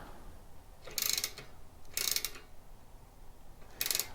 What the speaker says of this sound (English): I'm just gonna put them down with my hand wrench